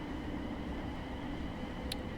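Interior of a Class 700 Thameslink train in Train Sim World 4: a steady, even cabin rumble and hum with faint tonal whine, continuous and unchanging, with no other sounds standing out.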